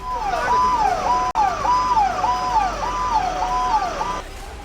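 A loud wailing fire engine siren sweeps up and down in a steady repeating cycle, close by, at the scene of a car blast near Delhi's Red Fort, then cuts off abruptly near the end.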